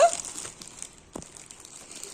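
A plastic bag crinkles as clothes are packed into it at home, a loud rustle at the start followed by softer scattered crackles and one sharp crunch midway, with quiet background noise throughout.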